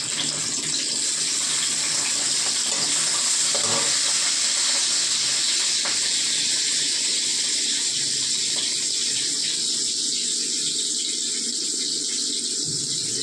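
Onion sizzling as it hits hot oil in a cooking pan, a steady, loud broadband hiss that runs unbroken and fairly close throughout, with faint clinks underneath.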